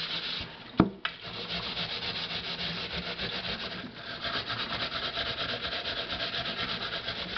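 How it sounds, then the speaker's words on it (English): A dried gourd being scrubbed clean by hand, a steady coarse rubbing rasp repeating in quick strokes, close and fairly loud, with a couple of sharp knocks early on and no voices. "a little extra elbow grease here. Scrub the heck out of it."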